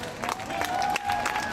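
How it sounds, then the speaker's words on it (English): Steady applause from an audience, a dense wash of clapping holding at an even level throughout, with a faint tone running beneath it. "Give her a round of applause."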